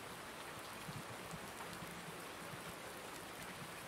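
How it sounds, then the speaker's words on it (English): Rain falls steadily in Farming Simulator 19, a dense, even hiss of drops with faint patter, constant and moderately soft, with nobody talking. "I don't want to get out in the rain too much."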